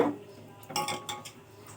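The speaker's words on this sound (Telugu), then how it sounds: "ఈ పులుసు ఉడికిందాక మూత పెట్టేద్దాం." Metal lid set onto a cooking pot of tamarind stew: a few short metallic clinks and clatters in quick succession, close and fairly soft, with no speech.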